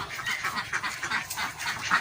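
Several ducks quack in a busy, overlapping chorus, fairly close, with no talking, at a rural garden home.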